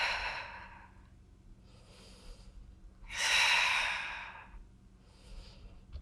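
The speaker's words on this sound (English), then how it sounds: "Keep breathing." Heavy breaths come during an ab workout, long audible exhales and inhales rising and falling at close range, one loud strong breath in the middle, with no talking.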